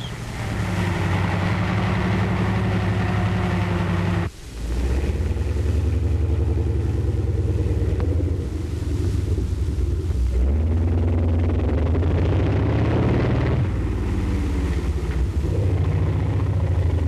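A medium tank fitted with a bulldozer blade churns through concrete obstacle eggs, its engine giving a heavy, continuous rumble and grinding roar that surges and dips over a steady low drone.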